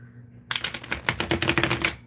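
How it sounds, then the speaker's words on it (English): A deck of tarot cards is riffled and shuffled in a rapid run of crisp, papery flutters and clicks, close and distinct, starting abruptly after a quiet moment. "let me give this a nice little shuffle"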